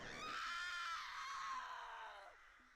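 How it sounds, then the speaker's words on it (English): A single loud, high-pitched scream rings out close by, sustained for about two seconds and wavering slightly in pitch before trailing off. "Mind gone. Time to scream."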